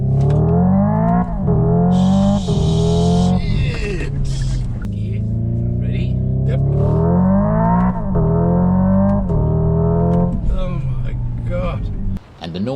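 A 2024 Hyundai Ioniq 5 N electric car drives hard with its synthetic engine sound, loud rising revs and simulated gear shifts repeating close by, while a voice talks underneath.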